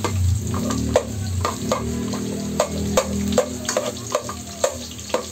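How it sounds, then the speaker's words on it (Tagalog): Garlic sautéing in a pan before pork giniling goes in, a steady sizzle broken by repeated spoon taps and scrapes at an even pace. "Salutuin muna natin yung bawang."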